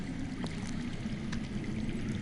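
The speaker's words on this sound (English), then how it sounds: "I hear water. From underground." Steady running water heard from underground in the Game of Thrones video game, a continuous low rushing wash with faint trickling detail throughout, alone without talk.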